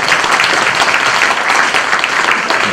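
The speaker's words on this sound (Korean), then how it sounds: "박수 해주세요." Loud, dense applause from a seated audience fills a graduation ceremony at a Korean preaching school, steady and even throughout with no break.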